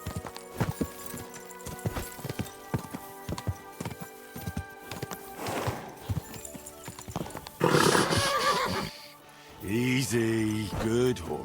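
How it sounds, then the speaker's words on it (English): In the video game Kingdom Come: Deliverance II, hooves clip-clop in a steady trotting rhythm, then a horse lets out a loud, wavering neigh, followed by another whinny near the end. "Easy, good horse."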